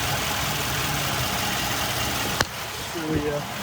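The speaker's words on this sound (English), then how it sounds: "we've had the car idling for probably 45 minutes while we've been doing photos" A Land Rover LR4 engine idles in a steady, even drone, with one sharp click partway through and a faint murmur near the end.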